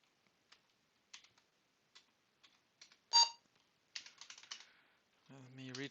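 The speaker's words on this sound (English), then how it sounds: "Let me retype this." Keys on an Apple IIe computer keyboard are tapped in sparse, quiet clicks with one louder clack in the middle and a quick flurry after, ending as a voice starts speaking.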